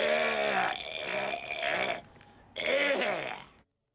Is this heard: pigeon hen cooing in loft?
no